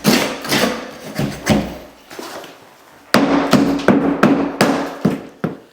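Dried drywall mud being scraped and knocked off a door opening, a run of sharp taps and scraping strokes, close and loud, with a brief pause midway.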